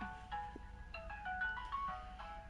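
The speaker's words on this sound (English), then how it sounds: "shut off my alarm. That was to wake me up so that I would be ready for the stream." A phone alarm rings with a short tonal ringtone melody, several quick chiming notes in a repeating pattern, fairly faint and close, with no talk.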